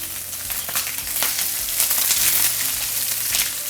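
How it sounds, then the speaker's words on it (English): Fish fillets sear in lemon butter in a hot skillet, giving a steady, close, loud sizzle and crackle of frying fat with no voices. "I want to let it sear for a good minute because I really want to brown the fish to get some flavor"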